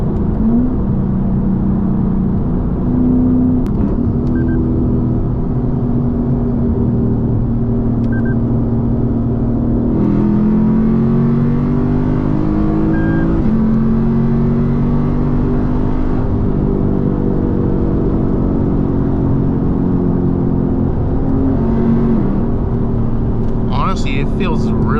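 A Lexus ISF V8 running on E30 fuel accelerates hard through the gears, a loud continuous engine roar with rising pitch sweeps as it pulls, heard from inside the car.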